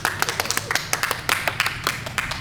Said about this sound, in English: There are a very small handful of us, fewer than are on the stage, but we can still applaud for you